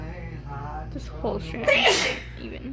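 A single sharp sneeze bursts out close by near the end, following a few moments of quiet talking.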